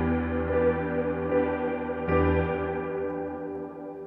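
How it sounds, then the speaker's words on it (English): Sustained piano chords from the UJAM Virtual Pianist RELIC instrument, soft and blunt with a long built-in reverb tail. A new chord enters midway and rings out alone. "In my production, I'm using RELIC's built-in reverb."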